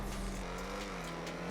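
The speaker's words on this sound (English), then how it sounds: "When you let off the gas, you can hear the exhaust. There's like crackles and pops." An XA21 supercar in GTA Online, its engine and exhaust droning close at a steady pitch over a noisy rumble, ending in a brief falling sweep.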